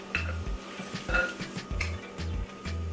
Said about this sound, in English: The first thing I want to do is go ahead and add my plantains to the mix, like so.